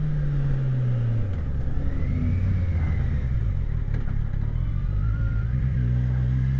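Kawasaki Versys SE 1000 (2019) motorcycle running in sport mode, a steady close engine drone with a pitch that falls, then rises and settles, over continuous wind rush.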